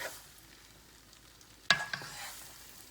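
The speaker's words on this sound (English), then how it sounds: "Everything's pretty hot, so I'm just gonna mix this in." Egg mixture stirred into hot spaghetti carbonara in a pan gives a faint sizzle, then a sharp clatter and brief stirring noises near the end.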